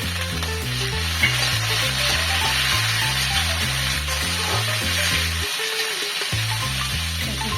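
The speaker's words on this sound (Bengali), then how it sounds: "পেঁয়াজটা একটু লাল করে ভেজে নিচ্ছি অল্প লাল বেশি না অল্প লাল করে ভেজে নিলাম এবারে টমেটোটা দিয়ে দিলাম" Chopped tomato hits lightly browned onion frying in a pan for Bengali sambar dal, giving a steady, close sizzle and crackle that holds throughout under a low tonal background of music.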